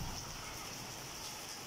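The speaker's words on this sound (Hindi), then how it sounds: "बहुत तेज़ बारिश आई है और बहुत ही मज़े का मौसम हो चुका है।" Heavy rain pours down in a dense, steady hiss that stays close and even for a brief moment, with no talking.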